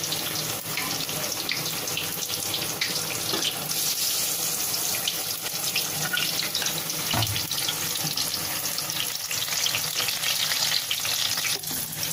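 Stuffed green chilli pakoras in buckwheat batter fry over a medium flame, giving a dense, steady hiss of bubbling oil that stays even throughout, with no voices.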